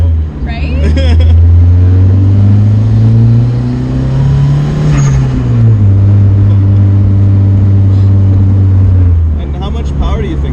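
A Mazda Miata's swapped turbo SR20 engine revs hard and holds a high, steady note before winding down, with a short burst of talking at the start.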